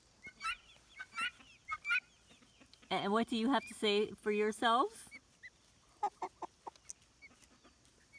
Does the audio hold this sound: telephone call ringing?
no